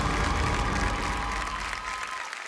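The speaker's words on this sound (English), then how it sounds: "We have a huge round of applause and thank them for joining us here tonight." An audience at the Femina Miss India 2016 Bangalore auditions breaks into a loud round of applause, dense clapping and crowd noise that gradually thins out toward the end.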